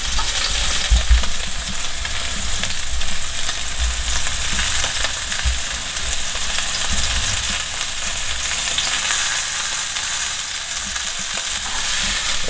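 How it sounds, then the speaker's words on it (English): A beef steak sautéing in a hot pan, a continuous loud sizzle and crackle of frying with occasional low thumps of the pan, steady throughout with no voices. "You're gonna maybe saute on both sides for about 1 minute, 2 minutes, and see how it looks."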